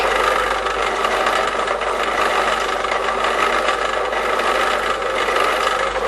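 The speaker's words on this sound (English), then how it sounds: "Countersink all the holes so the screws and the bolts fit nice and neat." A drill-mounted countersink bit grinds steadily into screw holes in a plastic router table top, a continuous loud rasping whir with no pauses or talk.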